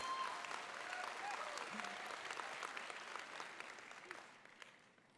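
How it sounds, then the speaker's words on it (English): Audience applause fills a youth assembly hall, a dense steady clapping that holds strong and then gradually tapers off. "go ahead, y'all can clap"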